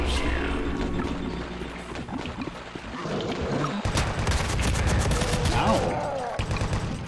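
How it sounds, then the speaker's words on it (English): Rapid, loud automatic chain gun fire from Doom 2, with sustained bursts of gunshots, crashes and booms of in-game carnage, continuous throughout. "Chain gun."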